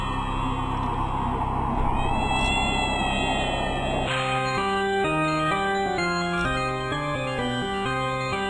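Mutant kitten in the Homestuck webcomic animation meowing over a steady musical score, with a clear cat call in the first half before the melody takes over; no talking.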